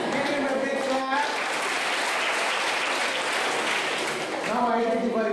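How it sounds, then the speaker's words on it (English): A college audience claps for a student, a dense wash of applause beneath a voice at the start, then clapping alone, before speech resumes over fading claps near the end. "Give him a big clap."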